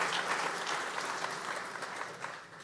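Graduates at the 2023 Riga Business School commencement applaud themselves, a full, steady wash of clapping from a large crowd that fades slightly toward the end, with no talking over it.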